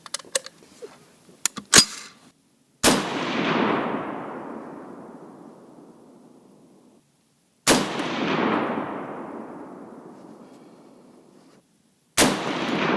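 Three loud .300 Win Mag rifle shots from a Noreen BN36, fired with Hornady Precision Hunter ammunition, each a sharp crack followed by a long decaying boom, spaced several seconds apart after a few faint handling clicks.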